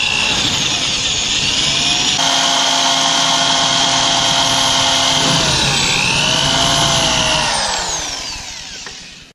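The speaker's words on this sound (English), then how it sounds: "I still have to drill through that" A power drill whirs loudly and steadily up close, drilling through a Xenon air dam on a Datsun 280Z, its pitch dipping briefly under load midway before winding down at the end.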